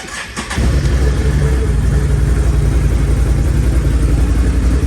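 A 2022 Can-Am Outlander 850 XT-P ATV's V-twin engine with stock exhaust turns over and fires up loudly after a brief crank, then holds a deep, steady rumbling idle close by.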